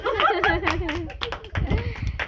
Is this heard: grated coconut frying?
no